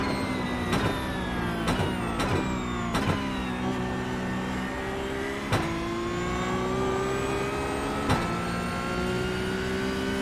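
A Porsche Cup race car in iRacing at Mount Panorama holds a loud, steady engine drone near at hand, its pitch rising gradually, broken by sharp downshift blips and gear changes.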